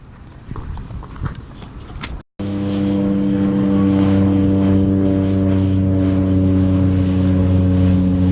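A steady, loud engine drone with strong low harmonic tones builds after a brief break as an airplane passes near a runway, like a propeller aircraft close by, with footsteps and rustling before it.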